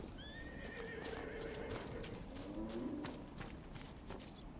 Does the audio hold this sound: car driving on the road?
no